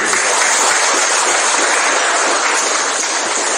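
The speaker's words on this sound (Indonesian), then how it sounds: "Marilah kita beri tepuk tangan yang meriah." Dense, steady applause from an audience at a pesantren alumni halal bihalal gathering, loud and continuous throughout with no pauses or voices standing out.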